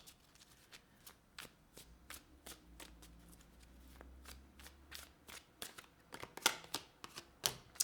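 Tarot cards shuffled by hand in a quiet room, a steady series of crisp riffling snaps and slaps that grow sharper and louder toward the end, with no talking.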